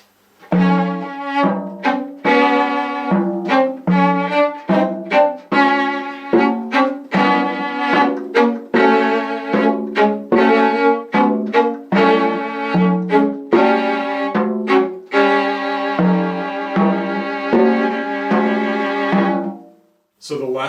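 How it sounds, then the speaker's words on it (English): A viola plays a variation on a theme while pitched drums answer as a second melodic voice, steady and continuous for about twenty seconds with rhythmic struck accents, close and loud, no talking. "the drums are pitched in a way that they create a kind of second melodic voice to the viola."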